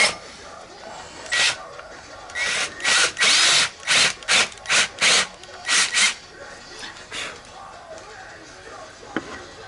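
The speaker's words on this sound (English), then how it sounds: "Just straight up drill a hole." A power drill whirs in a series of short bursts with brief pauses between, close by, drilling a hole while fitting a custom 3-inch exhaust to an R33 GTST, over a quiet workshop background.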